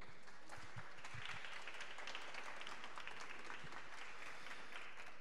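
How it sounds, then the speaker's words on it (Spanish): An audience applauds an actor being introduced at a talk, a faint, even patter of many hands clapping that continues steadily throughout without voices over it. "Un aplauso fuerte."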